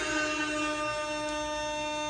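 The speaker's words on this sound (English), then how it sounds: "They'll also play a horn sample," A DJ horn sample played from a Pioneer DDJ-FLX10 controller rings as a continuous, brassy, sustained blare that holds steady throughout, loud and heard alone.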